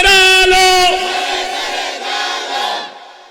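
A large crowd at an Islamic gathering chanting in unison in answer to a takbir call, a loud sustained harmonic roar that swells, holds and fades over a few seconds.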